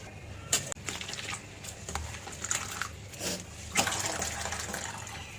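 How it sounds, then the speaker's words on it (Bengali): Dheki shak greens are washed by hand in water. Soft sloshing and splashing come in uneven bursts close by, fairly quiet, with no talking. "আরেকবার আমি ধোবো"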